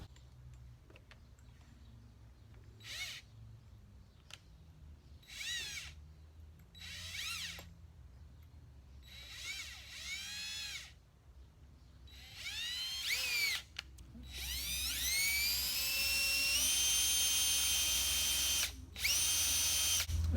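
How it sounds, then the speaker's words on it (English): An electric drill motor spins up in repeated short bursts while fitting a 160 mph speedometer in a Hurst Olds, then runs at full speed in a long steady whine near the end, with a brief pause before it resumes. "That's as fast as my drill motor is going to turn."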